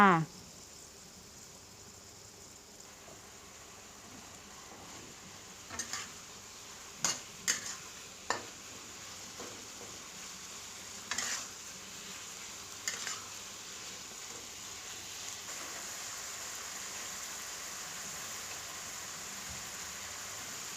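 Eggplant stir-fried with pork and fermented soybean paste in a pan, a faint low sizzle under quiet background hum, with a few distinct scrapes and clinks of a utensil against the pan scattered through.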